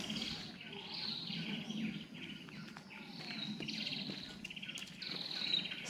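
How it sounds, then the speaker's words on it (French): Birds singing in a forested area near jungle on the way to a hilltop on Koh Samui, with repeated high chirps and trilling phrases that are faint and distant over a soft insect-like background hum. "Il y a encore quelques oiseaux dans ce secteur."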